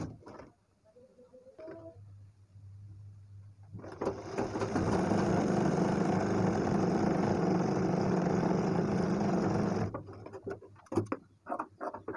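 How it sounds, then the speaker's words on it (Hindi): Sewing machine stitching a blouse, running in one continuous buzzing whirr for about six seconds after a couple of brief mechanical clicks, then stopping with a few scattered knocks of handling the cloth. "अब इसको हम इस तरीके से पलट के और यहाँ पर लगा लेंगे एक सिलाई"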